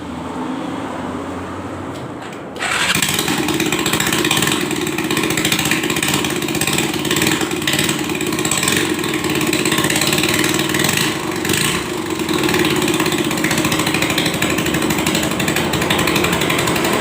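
An old vehicle engine starts after a quiet moment, then runs loudly and roughly with a steady buzzing drone right up close, no voices.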